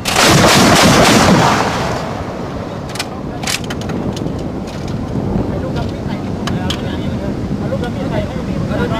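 Gunfire booms out over open water during a Thai naval military exercise: a loud blast with heavy wind rumble at the start, then sharp distant cracks scattered over steady wind and boat noise.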